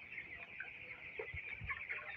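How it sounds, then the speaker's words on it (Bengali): Eighteen-day-old broiler chicks of the Aman company breed cluck and peep steadily in a poultry shed, a dense overlapping chorus of many birds with a few louder single clucks near the end. "আমাদের এই মুরগির বাচ্চাগুলোর বয়স হচ্ছে আজকে 18 দিন।"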